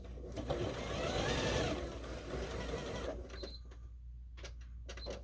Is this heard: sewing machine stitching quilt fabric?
yes